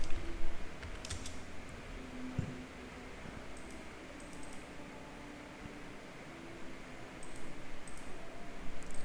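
Someone types on a computer keyboard while entering data into a Google Sheets spreadsheet. The keys come in short bursts of close clicks over a steady fan-like hum, with no speech.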